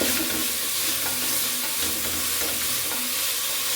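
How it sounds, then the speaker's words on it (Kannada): Fenugreek leaves sauté in hot oil for a fenugreek rice dish, a steady dense sizzle running throughout with soft stirring scrapes, close and alone without voices. "ಇವಾಗ ಮೆಂತ್ಯ ಸೊಪ್ಪನ್ನು ಹಾಕೊಳ್ತೀನಿ ಅದನ್ನು ಕೂಡ ಚೆನ್ನಾಗಿ ಎಣ್ಣೆ ಒಳಗಡೆನೆ ಬಾಡಿಸ್ಕೊಳ್ಬೇಕು"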